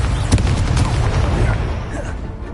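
A Confringo blast curse cast in Hogwarts Legacy, a loud booming burst with crackling impact noise and several sharp bangs near the start that fade into a rumbling tail.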